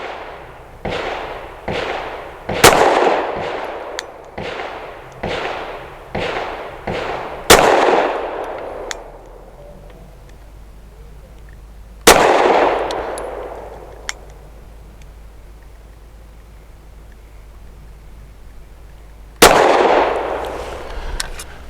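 Avidity Arms PD10 pistol firing Winchester White Box ammunition: a quick string of about ten loud, sharp gunshots with ringing tails, then several single shots spaced a few seconds apart, close and with no talking.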